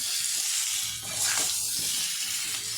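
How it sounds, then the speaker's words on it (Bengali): Spice paste of turmeric, cumin powder and slit green chillies frying for a thin fish curry with bitter gourd and potato, giving a steady close broadband sizzle with soft stirring scrapes throughout, no talk. "ভালো করে মশলাটা কষিয়ে নেবো"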